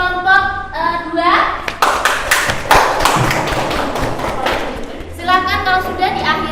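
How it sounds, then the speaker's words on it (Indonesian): A group of people claps for a student presentation group, a few seconds of loud, close, scattered hand claps and taps, with voices speaking just before and after. "Ya, tepuk tangan buat kelompok 2."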